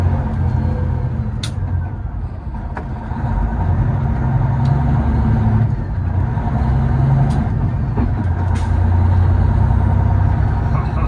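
Freightliner Coronado truck with a brand-new transmission, its engine droning steadily and loudly up close from inside the cab as it drives, with a few faint clicks over the constant low rumble.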